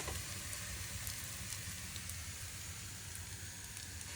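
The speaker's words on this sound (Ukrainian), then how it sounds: "як тільки краєчки стали трошки румяниться, я ось так наш млинець раз і перевертаємо" A thin pancake sizzles in a hot frying pan over high heat as it is flipped, giving a soft, steady hiss and crackle that stays faint and even throughout.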